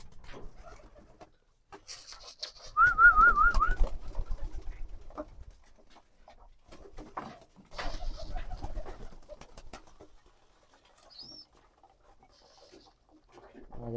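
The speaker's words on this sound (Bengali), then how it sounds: "দেখেন সবাই খাবার খাইতে আছে" Farm pigeons feeding in the morning coo in short rolling bursts, loudest early on and again midway, with quiet gaps between and a faint voice in the background.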